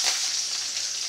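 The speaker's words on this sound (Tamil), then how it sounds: "கடுகு பொரியுது, கருவேப்பிலை, பச்சை மிளகாய், இஞ்சி எல்லாத்தையும் போட்டேன்." Mustard seeds with curry leaves, green chilli and ginger crackle in hot oil, making a bright, close, steady sizzle with a brief louder burst at the end.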